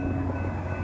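A Doodlebug railcar approaches Graydon's Road at Hastings, Victoria, Australia, near the Bluescope steel train, giving a steady, loud rumble with a droning engine hum and rail noise throughout, no voices.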